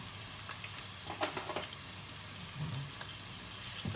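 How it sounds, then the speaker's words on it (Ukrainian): Steady soft sizzling of chopped garlic frying in a pan, with occasional faint clinks and stirring noises, no voices. "Ми накришили замість імбірю чесника. Зараз ми його смажимо"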